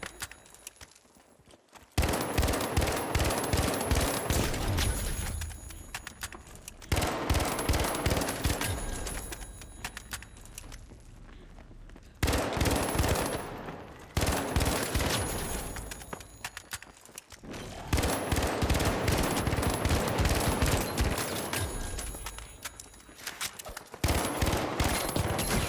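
An M60 machine gun firing in The Finals: long rapid bursts, loud and close, repeated several times with brief pauses between volleys.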